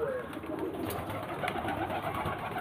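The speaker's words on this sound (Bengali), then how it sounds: "একটা পায়রা নামলো" Pigeons coo softly at a pigeon racing tournament in hot weather, a few low murmuring calls close by over a busy outdoor background, with no speech.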